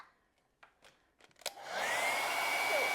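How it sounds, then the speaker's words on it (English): A few soft taps give way to a hair dryer switching on and blowing steadily and loudly over misted, absorbent art paper. "So, drying that with a hairdryer,"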